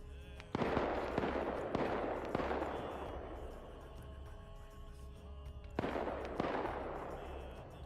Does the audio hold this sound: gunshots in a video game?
yes